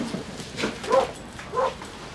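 A dog tied to a tree outside a restaurant gives a few short, faint barks and whimpering yips at a distance, spaced irregularly against quiet background noise.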